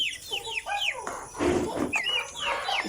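A three-month-old backyard chicken, raised from a day-old chick, clucks and chirps in short, repeated bursts at moderate distance, with no talking over it.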